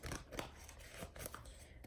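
A deck of cards being shuffled up close produces quiet, crisp riffling bursts and snaps that repeat in an uneven rhythm, with soft papery rustles in between.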